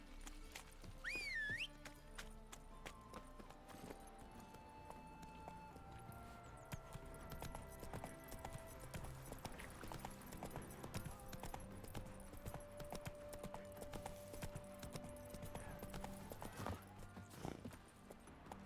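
Hooves of the horse Roach trotting in The Witcher 3 video game, a steady rhythmic clip-clop that runs throughout under game music and a brief whistle near the start.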